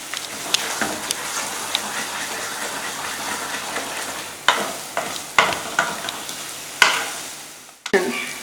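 Mango thokku frying in oil while being stirred: a steady close sizzle with hiss, broken in the second half by several sharp scraping clicks of a spoon against the pan.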